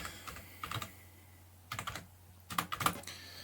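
Typing on a computer keyboard while writing Python code, clusters of quiet close key clicks in short bursts with pauses between, no talk.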